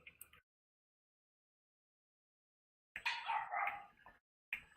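A small dog gives a few short, sharp barks and yips, separated by silence, one longer bark in the middle and brief ones at each end.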